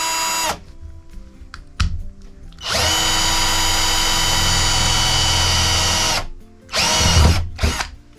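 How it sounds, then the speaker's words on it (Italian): A power drill bores through a Fiat Ducato van roof, whining loudly and steadily for about three seconds, bracketed by short bursts of drilling and clunks, close by and with no talking. "Questa è la punta del trapano che è passata"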